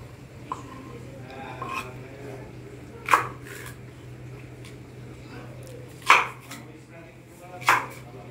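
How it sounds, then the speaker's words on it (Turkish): A bell pepper is chopped with a knife for a potato salad, a few sharp, separate cuts spaced seconds apart, with quiet kitchen background and some talk. "Ve biberim doğranması da bu şekilde."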